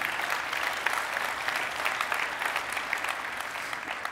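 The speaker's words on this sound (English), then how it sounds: "I think that deserves a round of applause." Sustained audience applause at a 2014 NetIQ BrainShare keynote, dense even clapping from a large crowd holding steady throughout with no talk over it.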